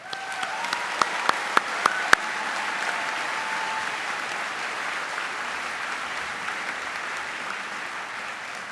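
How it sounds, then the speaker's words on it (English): Audience applause at a Dakota State University spring commencement ceremony, a steady, even wash of clapping from a large crowd, with a few sharp claps standing out near the start, sustained at moderate loudness. "Let's give you a big round of applause."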